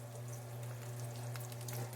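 Maple bacon strips fry in a tiny frying pan, giving a steady close sizzle and crackle throughout, with a constant low hum underneath and no talking.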